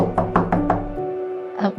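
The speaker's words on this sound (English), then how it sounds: "there was a knock at the door" Four quick knocks in a steady rhythm, close by, followed by a short pause and a brief voice or thud at the end.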